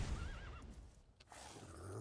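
A horse in Minecraft gives a short, clear neigh with a wavering whinny, followed by faint clip-clop and game noise, with no talking.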